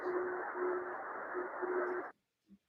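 A Morse code beacon received on shortwave radio at 272 kilohertz sends a steady tone, first broken by brief gaps and then cut off, over a broad bed of radio static.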